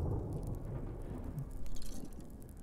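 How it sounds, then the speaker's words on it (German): Rain and a low rumble of thunder in the Smalland survival game, a soft, continuous downpour with a deep roll swelling briefly near the middle. "Es kommt wieder Regen auf, ne?"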